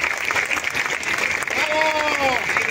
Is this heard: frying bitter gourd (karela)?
no